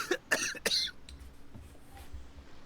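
A character in the Genshin Impact video game coughs three times in quick, harsh bursts, then the sound drops to quiet background ambience.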